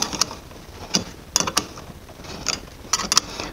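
A wrench tightens a nut onto a battery terminal post, with sharp metallic ratchet clicks in short irregular clusters, close up and without speech.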